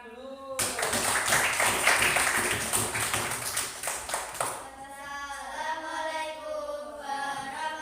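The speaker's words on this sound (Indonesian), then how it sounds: "Tepuk tangan dulu." A class in an Indonesian lesson on the food chain bursts into dense, lively applause for about four seconds, then the clapping stops and a voice begins speaking.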